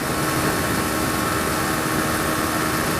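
A 2013 Honda CBR125R motorcycle engine in 6th gear at about 80 mph, a steady, loud, high-pitched drone mixed with heavy wind rush, continuous and alone, with no talking.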